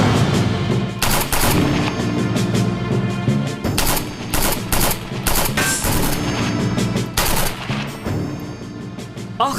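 Rapid bursts of gunfire crack through a TV drama shootout, loud and close, with dense machine-gun volleys and single shots repeating in clusters throughout with brief gaps between.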